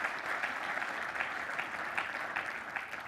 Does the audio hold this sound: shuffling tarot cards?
no